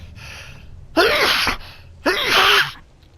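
A person sneezes while playing through Silent Hill 2 Remake, with a breathy intake followed by two sharp, close, forceful bursts of air about a second apart.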